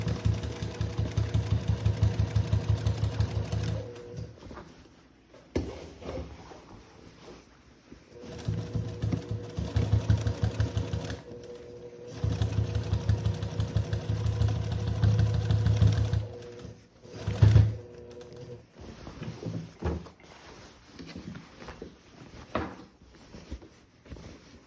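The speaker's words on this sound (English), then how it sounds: "I'm gonna sew along this second seam" A sewing machine stitches along a jeans seam while patching, running in long steady buzzing bursts close by, with short pauses between runs and no talking.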